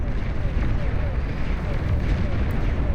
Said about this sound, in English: 3 tactical missile launchers now firing away in unison